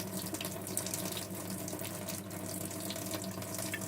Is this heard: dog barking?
no